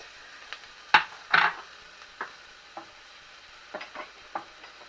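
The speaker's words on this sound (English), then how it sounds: "we're going to fry this for 4 to 5 minutes until softened" Half a small finely diced onion frying in a large pan over medium heat, with soft intermittent scrapes of stirring and a few sharper taps over a faint low sizzle.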